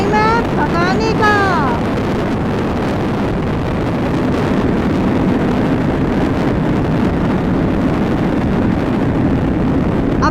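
KTM RC8 motorcycle speeding along the Yamuna Expressway, loud rushing wind buffeting the microphone over a steady engine roar, with a brief rising whine of revs near the start.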